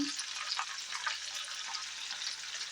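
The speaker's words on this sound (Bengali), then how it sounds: "বিম আর বিনস আর গাজর, ক্যাপসিকাম সেগুলো ভাজছে" Beans, carrots and capsicum fry in white oil for fried rice, giving a continuous, even hiss of sizzling that stays steady and moderately quiet throughout, with no voices.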